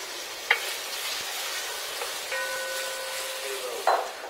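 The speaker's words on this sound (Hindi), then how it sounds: "हमें जो है प्याज को गोल्डन ब्राउन करना है, तो वही कर रहा हूं मैं अभी" Onions and whole garlic frying in coconut oil, a soft constant sizzle with a few quiet utensil clicks and a faint tonal hum partway through, low in level and without speech.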